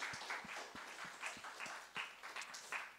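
A church youth-service congregation applauds its teachers, steady crowd clapping throughout with some louder individual claps standing out near the front.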